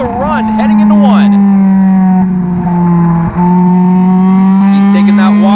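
NASCAR Division III enduro race cars roar past together on an oval track, a loud sustained engine drone with rising and falling pitch as cars pass near, under a race commentator's continuous voice.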